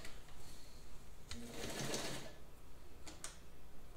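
A White 164 all-metal sewing machine stitches through heavy fabric with a long stitch length, giving a steady close mechanical whir that runs the whole time and rises into a denser, busier burst midway.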